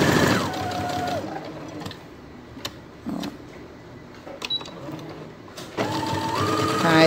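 A straight-stitch sewing machine sewing around a fabric bear, with short bursts of close, rapid stitching at the start and end separated by quieter pauses holding small handling noises and clicks.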